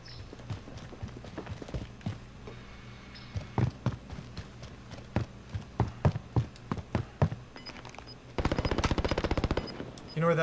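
Gunfire in a Warzone match: irregular single shots crack out one after another, then a rapid automatic burst near the end, with players' voices talking intermittently underneath.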